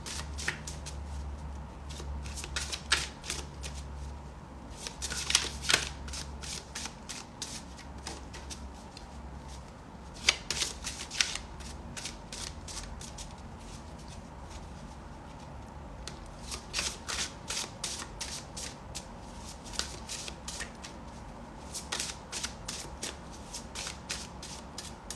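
A chakra card deck being shuffled by hand, repeated bursts of quick riffling flutters separated by pauses, close and fairly quiet over a faint low hum, with no one speaking.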